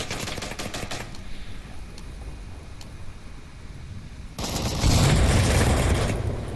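Bursts of gunfire crackle in an Onward VR competitive match. There are rapid shots throughout, then a much louder, denser barrage erupts near the end.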